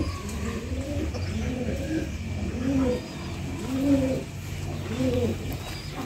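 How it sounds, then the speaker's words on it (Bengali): Domestic pigeons cooing in a loft, a series of soft, throaty rolling coos repeating every second or so, close and clear over a steady low background hum. "এখন একটু কবুতর হাঁকলো"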